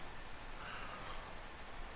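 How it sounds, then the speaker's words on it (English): Steady rain falls in the video game DayZ, an even, soft hiss of drops that continues unbroken and fairly quiet, with no talking. "It is raining though, that's the other problem."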